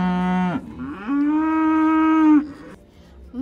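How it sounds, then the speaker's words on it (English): A cow moos loudly and close by: a short low call, then a longer, sustained moo, with a brief pause before another begins at the end. "Yoo-hoo cow just munching corn."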